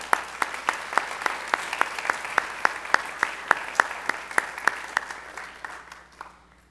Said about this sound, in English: So give your parents a round of applause.